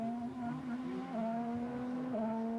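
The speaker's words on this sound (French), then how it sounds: "Et la pleine accélération pour un Esteban Ocon avec utilisation du DRS" Esteban Ocon's Formula 1 car accelerates hard with DRS open during practice at the 2022 French Grand Prix, a high steady engine whine stepping up through gears with sharp shifts, heard from a distance.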